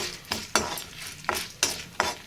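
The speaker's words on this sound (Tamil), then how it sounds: "இப்போ காஞ்ச மிளகாவும் அதோடு சேர்ந்து போட்டதுனால ரெண்டும் ஒன்றா வந்து கொஞ்சம் நல்லா ஃப்ரை ஆகிடுச்சு" Urad dal and dried red chillies frying in a pan for thoothuvalai thuvaiyal, with a soft sizzle under repeated scraping stir strokes, about five distinct close scrapes.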